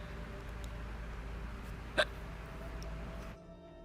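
A voice imitates a skeleton's hiccup in a read-aloud children's story, one short, sharp hiccup sound standing out alone over quiet background.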